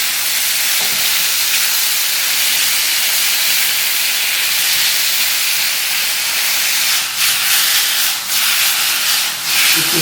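Small boneless chicken pieces for fried rice fry in a pan with a loud, continuous hissing sizzle. A few brief scraping stirs come near the end, and no one speaks.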